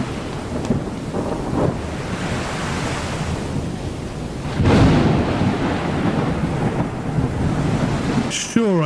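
A thunderclap booms over a stormy sea in the sailing video game Sail the Seas. A loud crack hits about halfway through, set against steady rain, wind and surging waves, with no talking.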